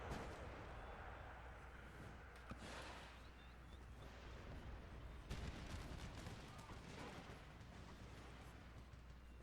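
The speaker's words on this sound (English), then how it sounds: "All the bullets flying right overhead" Dense, continuous musket and artillery fire from an Empire: Total War battle, a crackling barrage of shots and booms that swells and fades, with bullets whizzing close overhead through a steady rumble.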